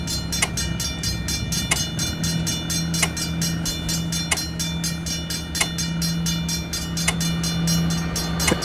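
A train passes a railway crossing in the video game Railway Crossing Creator, its wheels clacking in a regular rhythm over a steady rolling hum, with a faint constant crossing tone beneath.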